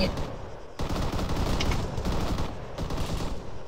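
Dense bursts of automatic gunfire and heavy machine-gun fire in an Arma firefight, loud and rapid, continuing for several seconds after a brief opening lull.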